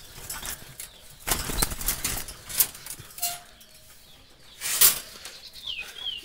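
Jalali wild pigeons kept in a loft flap their wings in several loud bursts, with softer rustling and faint bird calls between them.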